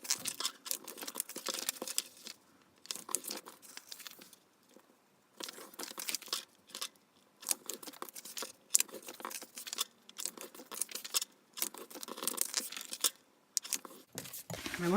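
Printed paper inserts are folded in half by hand, making soft crinkling, creasing and rustling bursts that come in irregular intermittent runs, close and fairly quiet.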